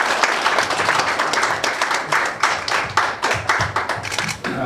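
An audience at a school opening ceremony breaks into dense, steady applause to welcome a former prosecutor general to the stage. Many hands clap together, loud and close, for several seconds.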